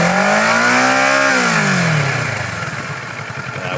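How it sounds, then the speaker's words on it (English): A 2012 Kawasaki Ninja 650 engine revs up sharply and then falls back toward idle, a loud, close, rising and falling motorcycle whine with no talking. "so I'll go ahead and rev it for you"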